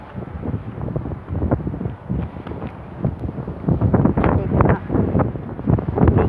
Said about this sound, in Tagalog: Natutumba yung kahoy sa lakas ng hangin.